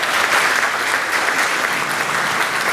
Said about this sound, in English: Let's give them a big round of applause for doing this